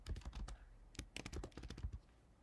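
A file name is typed on a computer keyboard while saving a TinkerCAD design: close, crisp keystrokes in two quick flurries split by a brief pause, with no speech.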